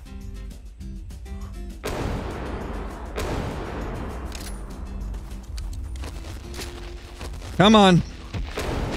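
Several loud gunshots fired at a Spinosaurus in Prehistoric Hunt, spaced booming reports over outdoor ambience, with a brief spoken word and a whistling tone near the end.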